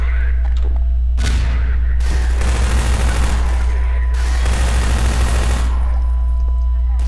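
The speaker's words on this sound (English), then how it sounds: "they're using turrets against me" Rapid automatic turret fire from Combine forces in Half-Life 2 rattles in two long, loud bursts, with brief pauses between them and a dense mix of shots and impacts close by.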